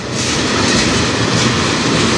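A CN manifest freight train on the Strathroy Subdivision rumbles past close by, a loud continuous roar of wheels and cars with no break.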